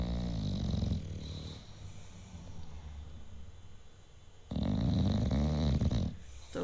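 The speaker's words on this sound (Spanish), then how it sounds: "a cuántos decibeles ronca cada uno." A bulldog asleep snores loudly and close, deep rasping inhales in two long bursts separated by a quieter wheezy stretch of breathing.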